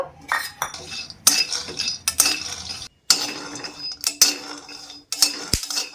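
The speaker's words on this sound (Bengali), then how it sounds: "এরপর চিনে বাদামগুলো শুকনো খোলায় ভেজে নেব।" Peanuts dry-roasting in a metal pan while being stirred give off bursts of close, bright scraping and clinking, with a rattle of nuts against metal and short pauses between strokes.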